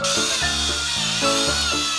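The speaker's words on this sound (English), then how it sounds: "Let's drill some holes." A drill whines in steady, repeating bursts, its motor pitch dipping and rising as it bites into material over and over, drilling holes for a homemade dog toy.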